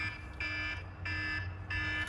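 An alarm on a Polaris Slingshot beeps in three shrill, evenly spaced bursts, loud and close with a faint low hum beneath.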